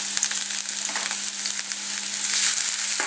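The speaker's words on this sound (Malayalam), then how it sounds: "ഓയിൽ ചൂടായി വരുമ്പോഴത്തേക്ക് ഇതിലേക്ക് ഇഞ്ചി, വെളുത്തുള്ളി" Chopped ginger and garlic frying in hot sunflower oil while making Kerala vegetable samosa filling, a steady close sizzle with faint stirring scrapes and no talk.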